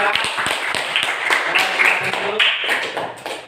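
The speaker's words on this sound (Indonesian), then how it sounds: "Tepuk tangan untuk kelompok" Classmates clapping for a student group after its presentation in a school lesson, a lively patter of hand claps with some quick taps, loud and close, with faint voices mixed in.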